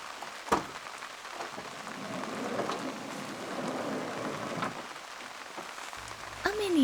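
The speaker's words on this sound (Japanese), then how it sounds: "あいにくのお天気、やっぱり雨が降っちゃいました。" Steady rain patters on and around a parked car during a car-camping trip, a continuous soft hiss with a few louder drops and no voices.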